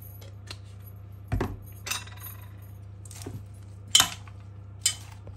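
Salad tossed in a bowl with olive oil: several sharp, separate clinks of a utensil against the dish, spaced a second or so apart over a low steady hum, with no voices.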